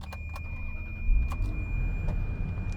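A Ferrari engine cranks and catches at a roll racing event, firing into a loud, close idle with a burst of revs, a low steady rumble continuing after; a high constant whine runs throughout.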